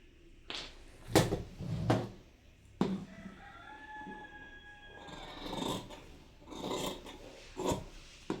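Scissors cut fabric for ladies' loose pants with several short rasping snips and rubbing strokes, while a rooster crows in the background.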